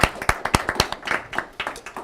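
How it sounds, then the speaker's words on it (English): Children at a school assembly clap for staff members, a quick run of sharp, fairly close hand claps in an irregular rhythm that thins out slightly toward the end, with no talk over it. "Can you join me in giving a great big round of applause to all of our staff members?"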